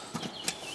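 Two quick plastic clip snaps as spring clips are released on the air filter housing of a 1991 Toyota Carina, short sharp clicks close by with a quiet pause between them.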